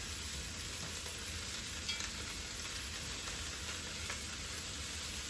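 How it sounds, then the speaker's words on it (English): Diced carrots, peeled parsnips and bacon fry gently in a pot for a venison, stout and chestnut stew, giving a soft, even, continuous sizzle at low volume with no talking. "you're just gonna fry that up gently for about 6 to 8 minutes until the bacon and all of that is lightly browned"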